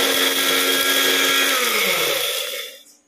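A bullet mixer grinder blending juice runs with a loud, steady high-pitched motor whine and buzzing rattle, then spins down and fades to silence as it is switched off; no talking.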